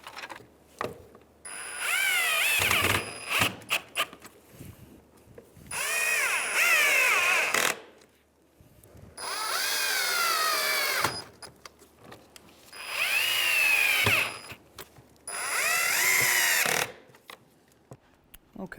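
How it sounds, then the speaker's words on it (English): A power drill whirs in five separate bursts while driving Phillips screws into a 2015-2019 Hyundai Sonata grille, each burst rising in pitch, close and loud, with quiet gaps and small clicks between them. "We can go ahead and put our Phillips screws in."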